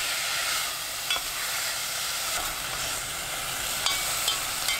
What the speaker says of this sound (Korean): 냄비가 달궈지면 소고기 넣고 센 불로 볶습니다.